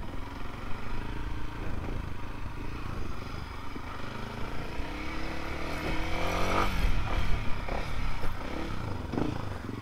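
Several motorcycles riding together, among them Yamaha WR155R dual-sport bikes, on an outing to a village; a steady engine drone runs throughout, swelling near the end as one bike revs and accelerates close by.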